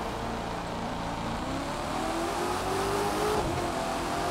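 A 600-horsepower car engine in The Crew 2 racing game revs hard and steadily, its tone rising and holding loud and close throughout, with no voices over it.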